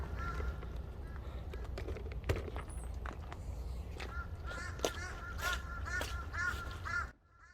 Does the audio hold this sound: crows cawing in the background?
yes